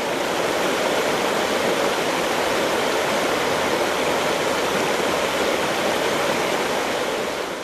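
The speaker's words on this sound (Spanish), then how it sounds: "comenzamos la jornada con el sonido de las aguas en su hoy pausado discurrir" Steady rush of river water flowing along a riverside trail between Carcaboso and Aldehuela del Jerte, a dense, even broadband hiss with no breaks, constant and fairly close, with no talking.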